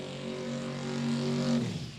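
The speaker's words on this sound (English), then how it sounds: "doing a burnout across the starting line" A drag race car does a burnout across the starting line at Cordova Dragway, a loud sustained engine roar with steady harmonic tones rising slightly before cutting off near the end.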